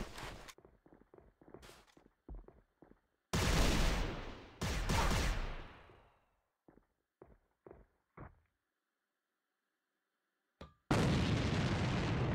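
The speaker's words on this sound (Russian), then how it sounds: "Бросаю гранату!" Thrown grenade detonating in a game, a loud booming blast with a long decaying rumble, followed closely by a second burst, set among scattered clicks and quiet gaps.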